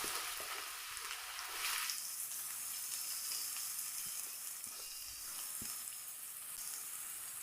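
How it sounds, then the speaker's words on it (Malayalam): Thinly sliced onions sauté with salt in coconut oil and garlic, a steady soft sizzle with a brief stirring scrape near the start, close and quiet. "ഉള്ളി വഴണ്ടി വരാനുള്ള ഒരല്പം ഉപ്പ്, നല്ല പോലെ ഒന്ന് വഴറ്റിയെടുക്കാം."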